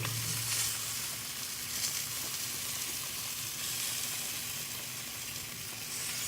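Spray bottle spritzing ribs as they smoke, a steady broadband hiss and sizzle running the whole time at moderate level, with no talking.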